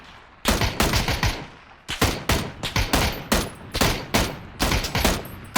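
Bursts of automatic gunfire in PUBG, several loud rapid volleys in quick succession with short gaps, close and sharp, with no talk over them.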